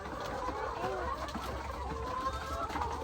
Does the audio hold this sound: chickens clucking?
yes